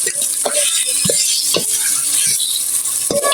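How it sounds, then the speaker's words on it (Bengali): Onions fry with ginger-garlic paste in a pan, a bright steady sizzle broken by repeated spoon strokes scraping and stirring, loud and close throughout. "তো এটাও ভাজা হতে থাকবে পেঁয়াজের সাথে।"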